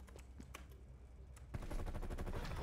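A Call of Duty: Vanguard match breaks into a loud, rapid burst of automatic gunfire after a few scattered distant shots, continuing steadily to the end.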